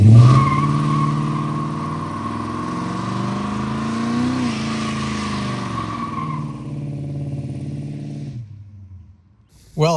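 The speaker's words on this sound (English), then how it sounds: "after he did that big burnout there" A 1970 Dodge Charger does a burnout. The engine roars loud and close with sustained revving and tyre squeal, then cuts off abruptly near the end.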